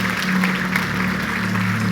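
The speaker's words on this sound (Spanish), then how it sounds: "Un aplauso" A church congregation claps together after a prayer, a continuous wash of applause at close range with a low steady hum beneath it and no speech over it.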